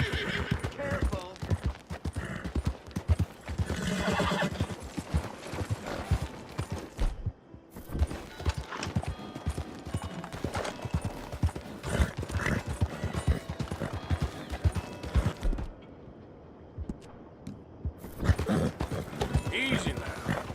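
In the video game Red Dead Redemption 2, hooves clip-clop in a steady rhythm with creaking tack, a horse whinnies, and voices talk over the scene before a short quiet break.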